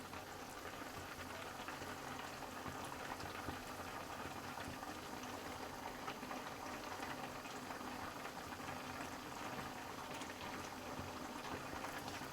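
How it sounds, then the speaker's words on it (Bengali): Pumpkin broth at a steady rolling boil before raw lentil dumplings go in, a continuous bubbling wash that stays even and close throughout with no voices. "ঝোলটা ফুটে উঠেছে, এবার ডালের বড়াগুলো দিয়ে দেবো"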